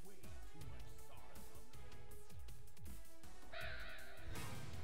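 Crows caw repeatedly in the video game A Hat in Time, several harsh calls in quick succession over busy game sounds and background music.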